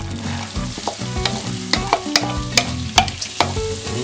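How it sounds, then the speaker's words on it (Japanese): Close sizzle of butter melting in a pot under clinking and scraping, with sharp metallic taps at irregular intervals as it is stirred. "はい、鍋に火をつけてバターを溶かします。"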